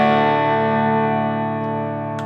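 An electric guitar with ISSY-200 pickups plays through a Deluxe Reverb amp: a single sustained chord rings out clean and bright, then decays slowly and evenly, heard alone.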